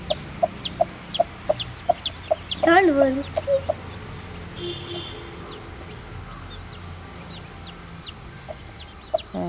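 Chickens cluck in a quick series of short calls, then a louder squawk; scattered clucks continue more sparsely over a quiet farmyard background.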